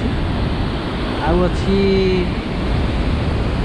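Water rushing hard through the open gates of Hadagada Dam, a loud, steady roar of broadband noise filling the scene while someone talks over it.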